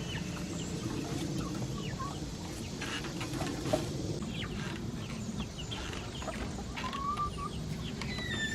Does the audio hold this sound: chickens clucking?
yes